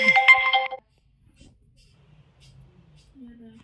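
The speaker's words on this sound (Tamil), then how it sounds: "ஃபோன் யாரும் அடிச்சிருந்தாங்க," A phone ringtone for an incoming call chimes loudly for under a second, followed by near silence and faint low murmurs.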